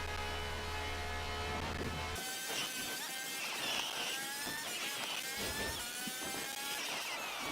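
Car crashing through roadside objects at the end of a race in Forza Horizon 4: a steady engine hum cuts off into a dense, loud stretch of clattering impacts and scraping debris, with no talking.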